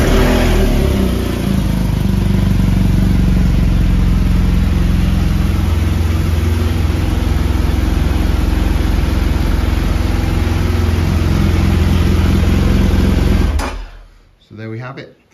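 A clean, well-kept motorcycle engine runs loud and close, with a steady idle and some rising revs, before cutting off near the end and leaving a brief dying rumble.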